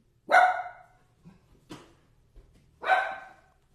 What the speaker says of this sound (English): barking at something driving past